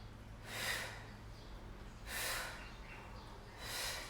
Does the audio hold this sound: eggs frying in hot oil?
no